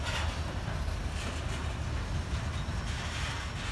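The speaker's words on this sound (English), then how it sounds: "The last train of the night was NS-503, coming out of the Rose Yard, doing 5 miles an hour." Norfolk Southern train NS-503 creeps out of Rose Yard at about five miles an hour, a steady low rumble and broadband rail noise holding at an even level throughout, with no voices.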